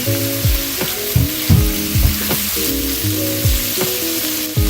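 Shrimp sautéing in a pan with curry gives a loud, steady sizzle, broken by several sharp scraping strokes of a utensil and a low tonal hum running underneath.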